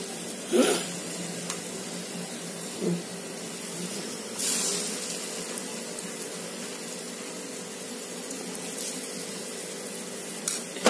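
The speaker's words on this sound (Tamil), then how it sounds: "இப்போ முட்டை ஆம்லேட் போடலாங்க." An egg and bread omelette cooking in a pan gives a steady, soft sizzling hiss throughout, with a few brief louder scrapes or pops.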